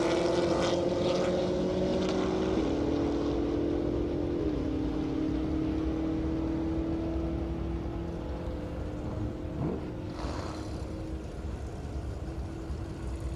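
A Dodge Hellcat and a Camaro drag race at an airstrip. Their engines give a strong, sustained roar whose pitch sweeps and falls as they pull away into the distance, with no voices over it.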